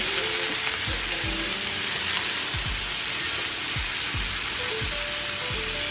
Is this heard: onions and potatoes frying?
yes